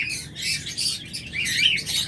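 Pet birds such as lovebirds, budgerigars and cockatiels at a local-breed bird farm squawk and chirp in a dense, continuous chorus, many birds calling at once from close and farther cages.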